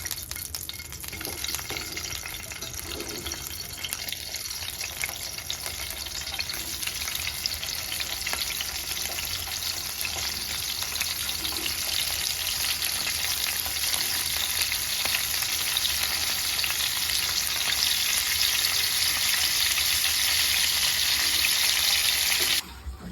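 Hilsa fish frying in hot oil in a pan, a continuous, fairly loud crackling sizzle that holds steady for over twenty seconds and cuts off abruptly at the end.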